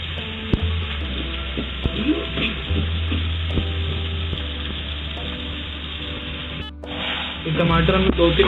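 Tomatoes sizzling and frying in a pan over steady heat for dhaba-style dum aloo, a continuous hiss with scraping and stirring clatter throughout, briefly dipping before resuming louder.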